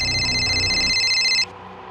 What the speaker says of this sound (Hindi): खबरी नदीम का फोन है सर